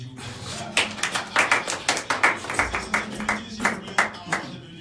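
A small studio group claps in unison, distinct rhythmic hand claps close and fairly loud in a steady repeating beat lasting several seconds.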